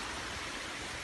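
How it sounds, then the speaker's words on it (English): A waterfall pours steadily in a place near Bandipur, giving a continuous broadband rush with no breaks and no voices. "And this is some kind of waterfall"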